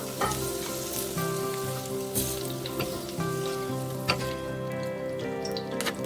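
Okra sautéing in a pan over a medium flame, with a soft, continuous sizzle and a few light clicks of stirring. Quiet music-like tones sit underneath the whole time.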